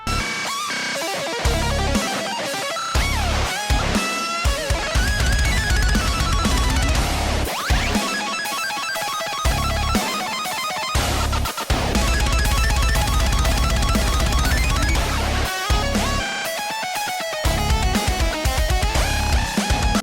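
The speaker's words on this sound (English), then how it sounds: "They actually sound like electronic dubstep or EDM music." Rapid, mechanical guitar riffs with a processed, electronic edge, dense and loud with choppy stops and bursts in a dubstep-like stutter, no voice over them.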